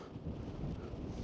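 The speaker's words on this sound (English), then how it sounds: "I got to stand this way because it is gusting at the top" Strong gusts on a mountain summit in winter buffet the microphone as a continuous low roar, rising and falling unevenly with no voices.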